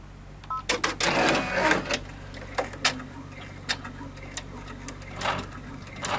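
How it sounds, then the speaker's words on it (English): An embroidery machine sews out a patch, its needle ticking and clattering in quick irregular bursts of clicks and rattles, close and fairly loud, with no talking. "you're going to let this sew out until it gets to that first running stitch that we made"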